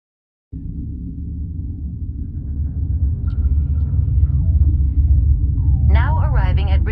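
A tram in the Mass Effect video game pulls away from Central Station, a deep steady rumble starting suddenly and building slightly in loudness, with a brief electronic chirping near the end.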